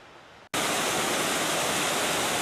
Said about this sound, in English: The first water I've come across while I've been walking up.